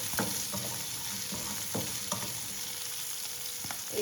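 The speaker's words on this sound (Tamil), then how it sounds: "சின்ன வெங்காயம் வந்து நல்லா வதங்கணும்," Small shallots sautéing in a pan for a Chettinad mango ginger and white channa pachadi, a steady soft sizzle with occasional stirring scrapes and clicks close by, no talk.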